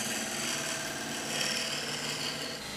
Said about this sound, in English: Either shear scraping like this, or like so, is by far the best technique to get a good finish when cutting resin and wood.